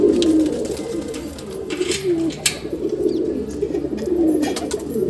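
Pigeons in a loft coo in low, rolling, throaty calls, repeating close by with soft rustling between the phrases.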